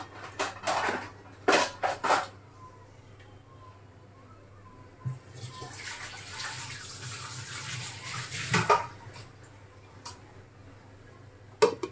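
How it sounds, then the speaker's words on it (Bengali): Water pours in a steady splashing stream for a few seconds, preceded and followed by a few clinks and knocks of cookware. "পানি দিয়ে দিচ্ছি"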